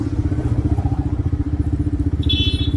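A 2022 Vento Screamer 250 motorcycle running with a constant rattling vibration from its headlight, a steady rapid pulsing clatter over the engine hum. A brief higher tone enters near the end.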